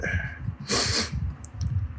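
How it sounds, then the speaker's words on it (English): A close, sharp sniff of air through the nose, a brief hissing inhale amid soft breathing and low murmuring. "Sorry for the sniffling."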